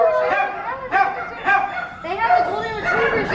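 German Shepherd at an animal shelter giving a run of short yips and whimpering barks, close and fairly loud, several in quick succession.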